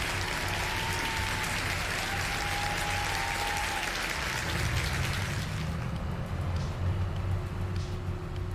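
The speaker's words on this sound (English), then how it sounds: "Big round of applause to Zach." Steady crowd applause, a broad dense wash of clapping running throughout, in a Farming Simulator 22 session set on the Elm Creek map.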